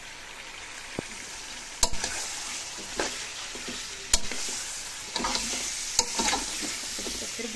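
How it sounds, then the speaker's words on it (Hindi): Tomatoes and spices fry in a pan for chicken pulao, a quiet sizzle broken by repeated scraping stir strokes and sharp spoon taps against the pan, close up with no talking. "भूनेंगे हम थोड़ा, मैं इसको भून लेती हूँ"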